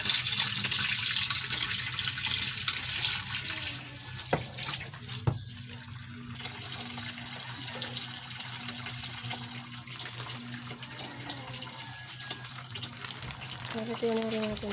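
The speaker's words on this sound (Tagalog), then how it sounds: "maglalagay na tayo ng tubig sa ating masahin." Water runs from a tap into a basin in a steady, continuous splashing stream, fairly close, with brief clinks partway through and a voice speaking faintly at times.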